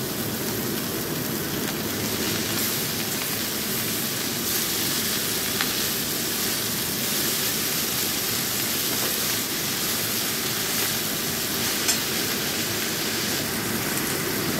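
Eggplant pieces with salt and turmeric, then fenugreek leaves, fry in a pan. A steady, even sizzle holds at close range the whole time, with no talk over it.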